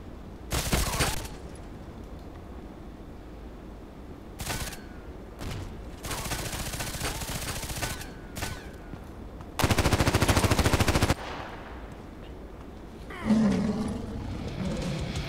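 Heavy gunfire from a large weapon in the online shooter Contract Wars, coming in several loud sustained bursts of rapid automatic fire separated by short gaps, with a roaring tone and ambient game noise between bursts.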